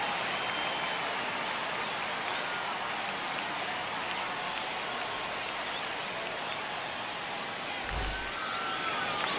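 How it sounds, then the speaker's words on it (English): A baseball stadium crowd in the MLB The Show 25 video game, a broad, steady wash of cheering and crowd noise that sounds distant, with a brief louder burst near the end. "the crowd is amped up, ready to get this season underway"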